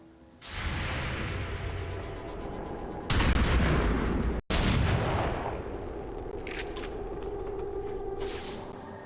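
Sustained gunfire and heavy impacts in the video game XCOM 2, loud and continuous across several seconds, with a brief cut and then more firing, rumbling blasts and whooshing effects.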